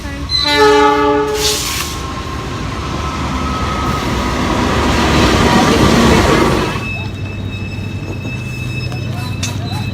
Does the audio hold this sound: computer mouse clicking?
no